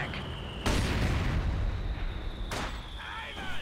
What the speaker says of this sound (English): The mortar's bombing in.